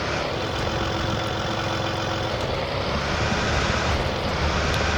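An old off-road truck in SpinTires roars at full throttle, a dense, loud, continuous engine drone with a steady low rumble and no voices.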